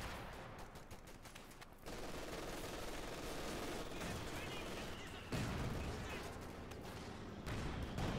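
Machine gun and rifle fire rattle through a Company of Heroes 2 battle between Wehrmacht and US forces, with sustained bursts of rapid shots and distant explosions, and a voice speaking underneath.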